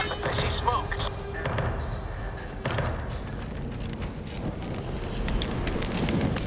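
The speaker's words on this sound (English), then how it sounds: "An explosion?" An explosion in The Outer Worlds 2 video game lands with a sharp burst near the start, then a second crack, followed by crackling fire, wind-like rush and voices talking.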